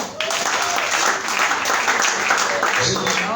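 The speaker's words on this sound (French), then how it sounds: "Tu peux acclamer une fois." A church congregation at a worship service applauds, dense, sustained clapping from many hands that fills the room steadily from start to finish, loud and close.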